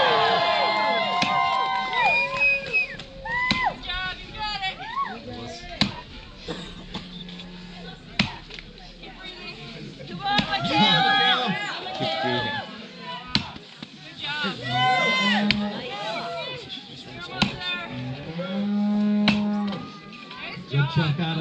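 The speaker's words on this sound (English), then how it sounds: "So let's cheer on Michaela." Crowd at a woodsmen's chopping competition during a maple festival in Shapleigh, Maine, cheering and shouting encouragement as axe chops land, with scattered voices, whistles and sharp wood strikes throughout.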